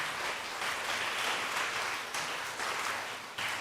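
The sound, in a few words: congregation applauding to welcome a first-time visitor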